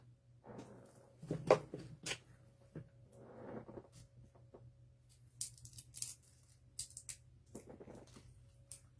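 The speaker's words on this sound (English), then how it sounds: "There's a stem there that needs cut off." Scissors snip through a stem on a burlap bunny wreath, a few quiet, close clicks and cuts spread out among soft handling and rustling sounds.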